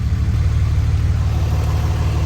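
A Dodge Cummins diesel truck engine idles with a steady, deep, even throb, close and continuous, with no voices.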